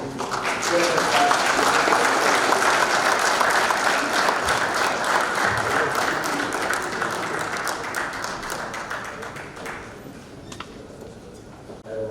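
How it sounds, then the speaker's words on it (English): A large audience at a national defence college applauds to welcome a guest lecturer, sustained dense clapping that stays loud for several seconds and then gradually thins and fades. "Please join me with a round of applause"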